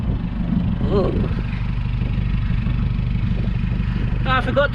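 A steady, low engine rumble from a car with a stock exhaust reversing slowly up a ramp, continuous throughout with brief faint voices over it.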